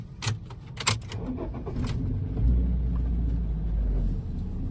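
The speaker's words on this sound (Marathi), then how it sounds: "तर या चावीने मी गाडी स्टार्ट करतो।" Keys jingle a few times in a petrol car's ignition, then the engine starts into a steady, low, close rumble that holds to the end without talk.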